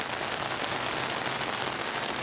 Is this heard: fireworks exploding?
no